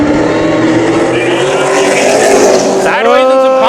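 Late model race cars roaring loudly at Havasu 95 Speedway as the field takes the green, a dense howl of engines rising in pitch with one car surging past near the end.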